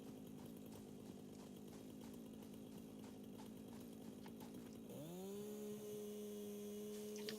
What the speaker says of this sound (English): I like this chainsaw